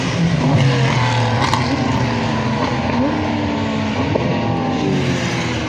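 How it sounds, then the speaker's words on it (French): Cars lapping the Le Mans circuit, a dense continuous roar of engines with rising and falling whines as vehicles pass, loud and steady throughout. "je vous laisse quelques images avec les voitures du circuit qui vont tourner"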